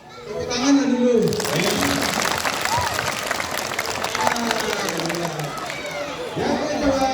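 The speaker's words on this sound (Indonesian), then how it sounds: "Tepuk tangannya dulu." A crowd at a police anti-drug outreach session in Pasaman bursts into loud, dense applause mixed with cheering and chatter, sustained for several seconds before a voice returns near the end.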